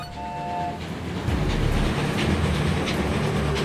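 Love Train stream alert sound effect: a train rumbling and clattering past at close range, with a brief horn tone near the start and a heavy rolling rush building midway; no speech.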